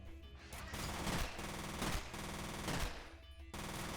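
A gun with a 50-round magazine in the shooter FEAR fires long, rapid automatic bursts, loud and close, with short pauses between volleys and no voices.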